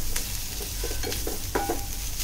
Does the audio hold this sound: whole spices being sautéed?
yes